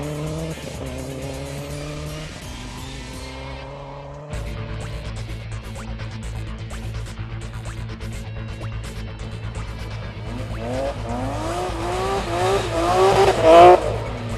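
Rally car on a stage in St. Peter, Barbados, sliding through corners with tires squealing, engine revving and shifting pitch as it accelerates and passes, growing louder toward the end.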